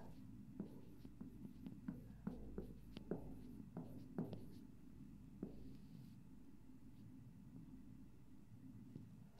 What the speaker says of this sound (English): let me write on the whiteboard